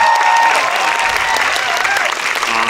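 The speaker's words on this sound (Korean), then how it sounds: "박수로 환영해 주세요" A packed theater audience at a film screening talk event claps loudly and continuously to welcome a guest, a thick, even wall of applause throughout.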